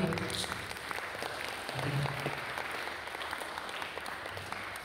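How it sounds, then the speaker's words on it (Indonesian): Audience applause at a closing Islamic religious mentoring event, an even crowd of hands clapping steadily throughout at moderate loudness. "Boleh tepuk tangan sekali."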